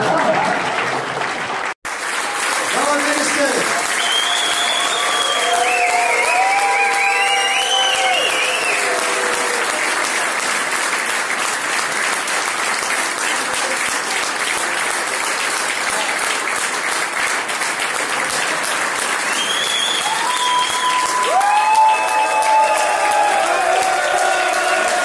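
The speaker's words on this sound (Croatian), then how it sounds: "Samo da je aplauz." Loud, sustained audience applause at a stand-up comedy show fills a long stretch, a dense continuous roar of clapping with some cheering woven in, while a voice speaks over it at times.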